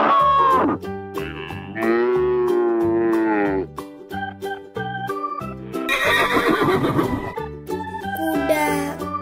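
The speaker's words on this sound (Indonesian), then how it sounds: "Kuda. Horse." A horse neighs in a loud, wavering whinny, followed by further bursts of animal calls and a harsher, noisy cry, all close and clear with no talking over them.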